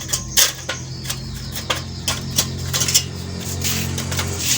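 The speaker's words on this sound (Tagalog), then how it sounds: "ang ilalagay na lang natin na patungan ng kaldero" A metal pot stand is set into a homemade oil-burning stove, giving a string of sharp metallic clinks and taps at uneven intervals, close and fairly loud, with no one speaking.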